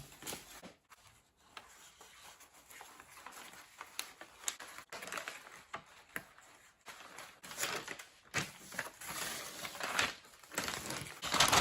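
A sewing machine stitches fabric for a gathered dress, giving a rapid, continuous mechanical patter of needle strokes that is fairly close, irregular in loudness, and grows busier toward the end.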